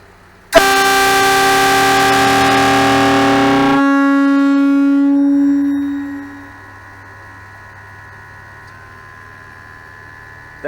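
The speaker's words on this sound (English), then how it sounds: "That had a very long echo and a very weird sound at the end." A train horn mounted on a vehicle blasts outdoors as its whole air tank drains, a loud, chord-like tone held for about three seconds that then thins and sags in pitch before a long, fading echo trails into quiet hum.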